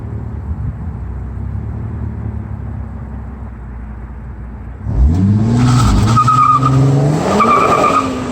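A 2019 Infiniti Q50S 3.0T makes a launch-control start: idle rumble for about five seconds, then a sudden loud surge of engine revs and shrill, wavering tire squeal that holds close and strong to the end.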